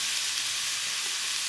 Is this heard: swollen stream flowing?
no